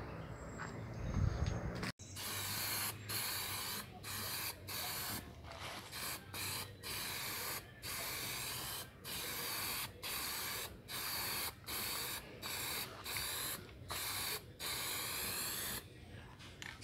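An aerosol can spray paints a homemade bicycle basket in repeated short bursts, each a close hiss separated by brief pauses in a steady on-off rhythm, after a short rustle at the start.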